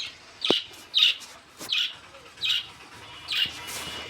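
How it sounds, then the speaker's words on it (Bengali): Pet birds in a breeding setup give a series of about six sharp, bright chirps at a regular, roughly half-second rhythm, close by against a quiet background. "আজকে আমার পাখি সেটআপটা দেখাবো"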